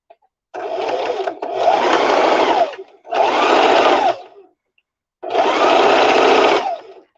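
A sewing machine stitching a straight line along a lace edge for a headbow, three loud close whirring runs of rapid stitching separated by brief silences.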